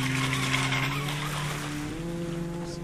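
A Wltoys WL913 brushless RC boat on a 4S lipo runs at full throttle. Its motor whines steadily with a rising pitch, over the rush of water, heard at moderate distance.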